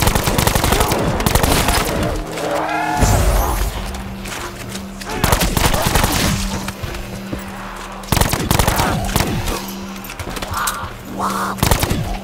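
Gunfire in Call of Duty: Black Ops 4: loud, rapid bursts of shots and sharp impacts mixed with game effects and chaotic noise, with a voice speaking intermittently.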